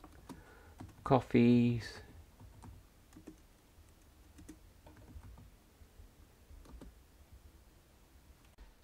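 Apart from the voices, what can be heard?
typing names on a computer keyboard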